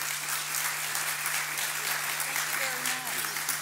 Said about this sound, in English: Please, a warm round of applause for Senator Kay Bailey Hutchison.